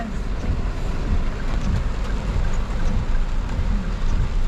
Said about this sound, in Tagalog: Ang lakas ng ulan po.